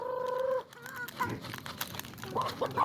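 A chicken clucks a few times nearby, mixed with faint rustling and background noise.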